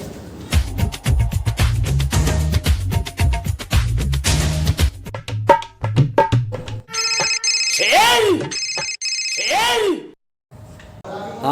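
A phone ringtone sounds during a Hindi comedy sketch as a call is placed, with two bright, warbling ring bursts arriving after a stretch of busy music.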